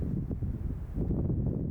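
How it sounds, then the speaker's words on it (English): Wind blowing outdoors on a cold winter night during a record cold snap in New York, a steady low rumbling buffet against the microphone that swells and eases without a break. "It is windy."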